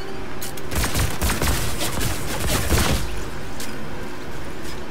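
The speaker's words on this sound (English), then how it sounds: "this Stark gun is what you're going to use to eliminate players" A Stark Industries energy rifle fires in a battle royale video game, producing a loud, dense burst of rapid shots for about two seconds before fading into a steady background hum.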